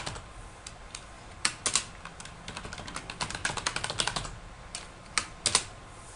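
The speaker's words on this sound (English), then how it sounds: "Type in the password." Keys clack on a computer keyboard as a password is typed during an Ubuntu 12.04 install, with sparse irregular taps and short bursts of quicker strokes, close and fairly quiet.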